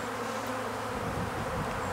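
Bees buzzing in a dense, continuous drone close by during an inspection of a failing beehive with many dead bees.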